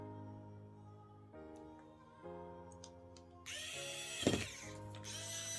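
Small screwdriver driving screws into an iPad 9th gen during a digitizer replacement, a low ratcheting mechanical whir with steady tonal hum that shifts pitch in stages, close and moderately loud with no talk.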